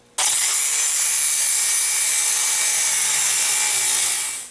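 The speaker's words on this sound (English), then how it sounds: "Now we're just going to grind the swing swivel off the same way." A power grinder cuts the swing swivel off an AR-15 front sight, starting abruptly and holding a loud, steady, high-pitched metallic grind for about four seconds before winding down, with no talking.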